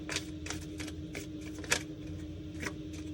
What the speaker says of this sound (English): I'm gonna do one more shuffle here.